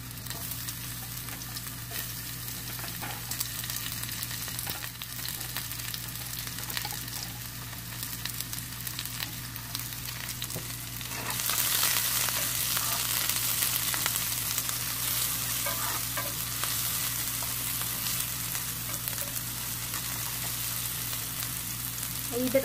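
Onions frying in hot oil after garlic for Filipino pancit bihon, a steady close sizzle that swells louder and brighter partway through as the pan heats up, with no talking.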